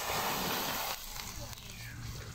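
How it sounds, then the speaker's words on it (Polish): Steady, close sizzling and hissing of potatoes frying in hot oil over a campfire, loud at first and then settling into a softer crackle. "Wrzucamy ziemniaki na rozgrzany olej."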